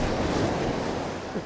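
Ocean surf rolling in during a shore fishing trip on the Hokkaido coast in early summer, a steady broadband wash with a gust of wind noise on the microphone and no clear voices.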